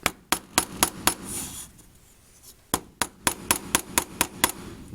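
A rubber hammer strikes a dug-up rifle cartridge resting on a wooden block, giving a quick series of sharp, close knocks. A pause follows, then a faster run of evenly spaced taps.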